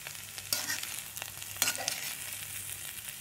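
Cauliflower fry crackles in a pan near the end of cooking, a soft continuous sizzle broken by two sharp spoon scrapes, with quiet stirring sounds in between.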